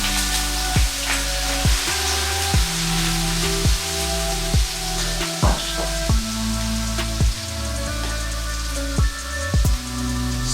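About 1.5 pounds of crawfish tails fry in hot avocado oil, a loud, steady sizzle and crackle broken by a regular series of sharp pops and spatters, with no talking.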